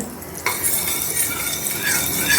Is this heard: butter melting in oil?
yes